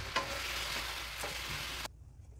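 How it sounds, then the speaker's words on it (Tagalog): Shredded cabbage sautéing in a pan for Filipino pancit canton, a steady close hiss of frying with a few stirring scrapes before the sizzle cuts off abruptly. "Sali natin siya dyan sa pag-sauté. And then yung ating repolyo."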